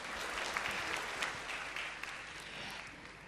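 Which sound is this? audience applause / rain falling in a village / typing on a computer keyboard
audience applause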